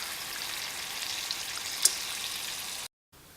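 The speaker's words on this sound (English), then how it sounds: "we're going to leave this here simmering uncovered for 10 minutes" Taco meat and black beans simmer uncovered in a pan, giving a soft continuous bubbling hiss with one brief clink before the sound cuts out.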